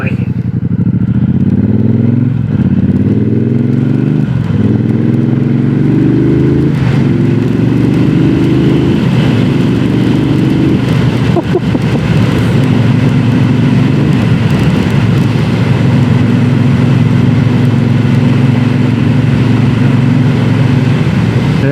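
A 2026 Triumph Bobber 1200 rumbles loudly and continuously on the move, its engine note rising through several gears before settling into a steady cruise, with wind buffeting throughout.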